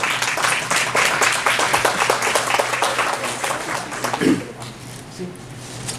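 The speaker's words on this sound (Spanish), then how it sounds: "y un aplauso para él." A conference audience applauds a speaker presenting on the systemic model, a dense burst of many hands clapping that fades out over several seconds, with a voice speaking near the start.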